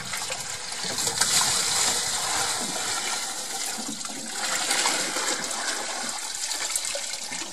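Water gushes steadily into a container for a chicken coop, a continuous loud rushing pour that swells and settles over several seconds with no talk.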